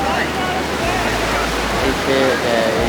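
Sea waves wash onto the beach at Cox's Bazar, Bangladesh, a loud continuous roar of surf mixed with wind rumble, with faint voices in the background.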